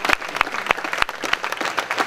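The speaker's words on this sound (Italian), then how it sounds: "Ci sono ancora applausi" An audience applauds at a live comedy event at the Giorgio Gaber festival in 2017, with scattered, uneven claps standing out close by rather than a dense roar.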